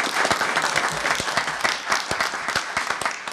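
An audience at a comedy roast breaks into applause, a dense, continuous patter of many hands clapping at once, loud and sustained with no talk over it.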